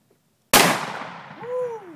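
A single loud, close gunshot from a Smith & Wesson Model 29-2 .44 Magnum revolver cracks out sharply after a moment of silence, then rings and decays through the rest of the moment.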